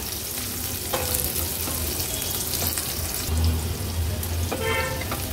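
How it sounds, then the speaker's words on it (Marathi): Half a chopped onion fries in hot oil as a tempering for pomfret curry, giving a steady close sizzle with occasional stirring scrapes and brief louder spatters. "अगदी छोटासा अर्धाच कांदा आपण घेतला आहे फोडणीला"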